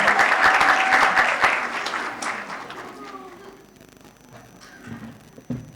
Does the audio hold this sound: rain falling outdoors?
no